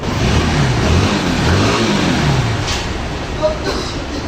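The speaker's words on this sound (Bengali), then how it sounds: "দেখেন বাইকের মধ্যে সেলফ করার সাথে সাথে বাইকটি" A motorcycle engine, freshly fitted with new cylinder-head valves, idles right after its electric self-start, giving a steady, fairly loud running drone that fills the whole stretch without any speech.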